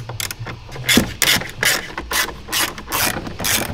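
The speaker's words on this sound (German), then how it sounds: "Dann lösen wir 1, 2, 3, 4 Schrauben." A hand ratchet clicks in short, quick bursts close up while loosening screws on the glove box of an Audi A3 8L, with brief pauses between the rapid rattling strokes.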